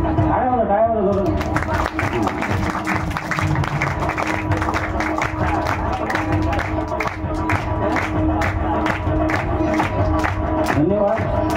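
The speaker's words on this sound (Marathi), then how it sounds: "टाळ्या होता जोरात" Loud, dense applause from a crowd at a school students' award ceremony, with rapid clapping running throughout under a prominent voice and sustained tonal sound.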